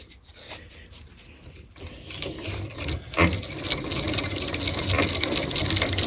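A Stanley dowel and rod turning machine cuts a rod steadily, its motor and cutter rising into a loud, continuous grinding whir after a quieter start, heard up close with no talking.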